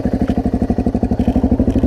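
A BMW motorcycle on an off-road ride throbs close and loud, its engine pulsing in a fast, even rhythm that runs through the whole stretch with no talking.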